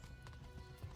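Horse hooves gallop in Kingdom Come: Deliverance, a steady rapid clip-clop of hoofbeats running continuously at moderate loudness.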